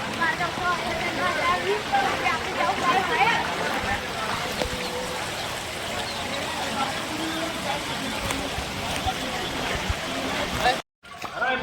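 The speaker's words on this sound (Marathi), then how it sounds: "मोठ्या लेवलला पाणी आलेलं आहे त्यांच्या घरात पाणी घुसतंय" Floodwater from a cloudburst rushes steadily into village houses in Bhadli Khurd, Jalgaon, a loud, unbroken churning roar under someone speaking throughout, with a brief dropout near the end.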